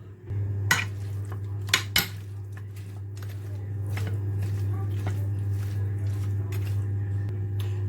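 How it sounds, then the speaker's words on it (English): Lamb chops being mixed with salt in a pot: a few sharp metal clinks from a spoon against the pot, then soft squelching stirring, close, over a steady low hum. "Just going to mix this up now."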